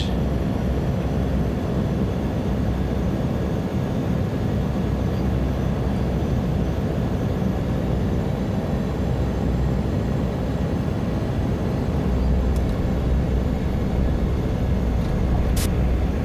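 A Cessna 208B Caravan turboprop in the MSFS 2024 flight simulator is on its touchdown roll, with a steady, loud broadband engine and rolling roar that holds evenly throughout, and no voices.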